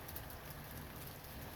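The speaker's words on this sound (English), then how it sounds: "That is the sound of rain." Rain falls in a steady, faint wash, an even soft hiss with a light patter of drops throughout, heard alone with no voices.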